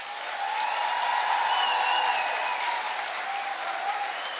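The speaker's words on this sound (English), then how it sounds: "Please can we give your teachers a short round of applause" Audience applause for the teachers at a graduation ceremony, a steady wash of many hands clapping in a large hall, moderately distant and even throughout.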